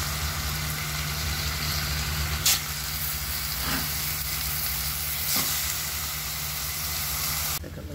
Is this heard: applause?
no